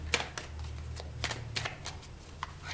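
Tarot cards being shuffled close by, with a run of crisp riffling snaps and soft slaps of card edges over a steady low hum, lasting under three seconds.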